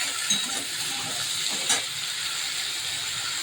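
Vegetables and spices frying in a pan give a constant close hiss and sizzle, with a couple of brief louder spits along the way.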